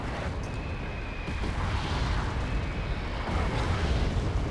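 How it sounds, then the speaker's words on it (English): Mortar fire in Wargame: AirLand Battle lands as a dense, continuous roar of overlapping explosions and rumbling booms, loud and sustained with no clear gaps. "we have massive mortar fire coming in"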